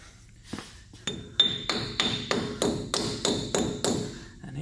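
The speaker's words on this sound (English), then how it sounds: "It's probably the best to bring a wrapper mallet or dead blow hammer" A dead blow hammer taps a grease cap onto a Ford E-series van's front wheel hub, about ten sharp, evenly spaced metallic knocks with a bright ringing edge, close and alone.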